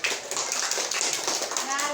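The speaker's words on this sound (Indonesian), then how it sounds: "Tepuk tangan untuk kelompok 4." Schoolchildren in a classroom clap for a student group, a dense, continuous patter of many small hands nearby, with children's voices mixed in.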